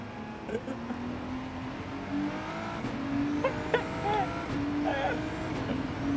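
A race car brakes and skids in Gran Turismo 7, the engine droning low with tire squeal rising over it, a few brief chirps and screeches at moderate level while someone talks over the game sound.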